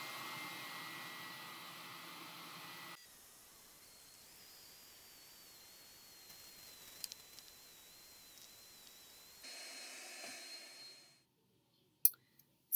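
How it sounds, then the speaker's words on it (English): A hooded hair dryer whirs with a steady hiss, dropping to a softer drone and then rising again before cutting off into silence, with faint clicks. "I've been under the dryer for about 40 minutes."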